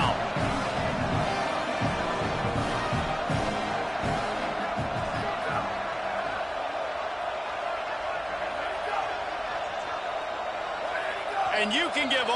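Stadium crowd noise in a college football video game, UNC against Syracuse, a steady roaring wash of fans throughout, with a commentator talking over it.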